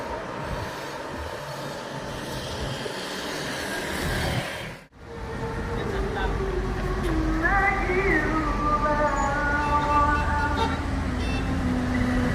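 A bus rumbles past on a busy road in Muara Bungo, Indonesia, rising from steady traffic noise into a close, whining drive with humming engine tones.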